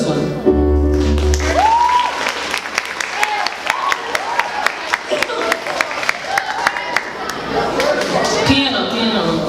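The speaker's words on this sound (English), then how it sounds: "Do y'all like this sound better or this sound better? Okay. Clap if you like this one." Audience clapping to vote on a preferred sound, scattered distinct claps spread over several seconds, with voices and chatter mixed underneath.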